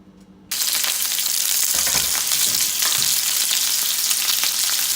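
Loud, continuous sizzling of potatoes frying in hot oil, bursting in after a brief quiet moment and crackling steadily throughout.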